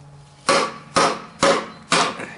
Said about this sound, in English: just sit here and bang on it with the hammer